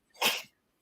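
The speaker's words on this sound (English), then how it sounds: "Bless you." A single sharp, close sneeze bursts out loudly and ends within half a second, followed by silence, with no talking.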